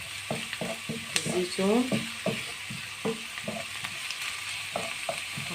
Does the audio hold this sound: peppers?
yes